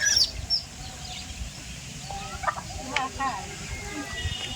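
Chickens cluck and call in short bursts from a short distance, scattered over a steady outdoor background hum.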